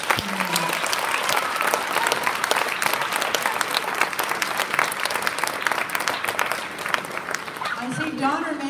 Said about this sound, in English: Another round of applause for the Starbucks community.